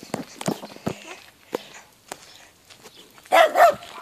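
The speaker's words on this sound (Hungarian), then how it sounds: "Puli kutya." A Hungarian puli dog barks in short, sharp bursts in a village setting, the yaps scattered and fairly close, ending in a louder double bark, with footsteps and faint voices around.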